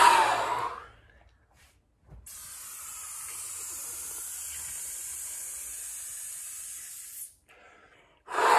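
A slow, steady inhalation is drawn through an older-model O2Trainer lung trainer, making a long airy hiss of several seconds. Louder breaths come before and after it, with quiet gaps in between.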